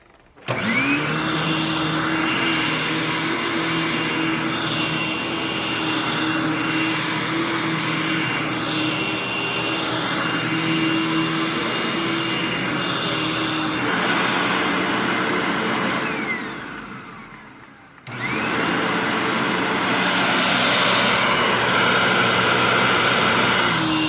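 A Hoover Tempo Breathe Easy upright vacuum cleaner runs with a steady, even whine and airy roar, briefly dropping out near the end before starting up again.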